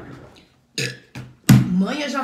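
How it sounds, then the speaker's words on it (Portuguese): A loud burp erupts amid nearby voices talking, a short throaty belch that stands out clearly among the chatter. "Não fui eu que arrotei."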